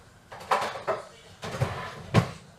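A kitchen drawer slides open and shut, and a spoon is picked out of it. Several close, separate wooden thumps and light metallic clinks come in bursts over a couple of seconds.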